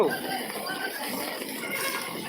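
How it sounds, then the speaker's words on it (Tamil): A flooded river rushes over a bridge, roaring steadily with a dense, broadband wash of noise, continuous and fairly loud throughout, with no distinct breaks. "வேலூர் பெரிய ஆற்றுல தண்ணி பாலத்துக்கு மேலே போயிட்டு இருக்குது"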